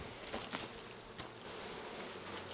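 Bees buzz around a hive entrance in a continuous hum, with a few sharper passes and faint taps near the start; moderately quiet outdoor setting, no talk.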